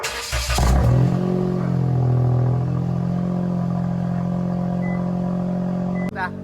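A Toyota Raize with a large chambered exhaust starts up with a loud burst, then idles in a steady, deep, droning rumble close by before a brief clatter near the end.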